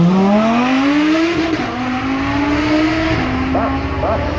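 A Lamborghini V12 supercar accelerates hard up the Goodwood Festival of Speed hill, its high engine note climbing through gear changes, loud and close, with a voice talking faintly underneath.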